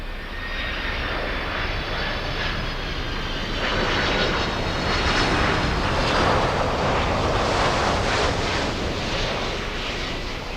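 Lufthansa flight LH462 airliner landing at Miami Airport, a broad roaring jet engine noise that swells to a peak midway and holds steady, heard from a distance with some wind buffeting.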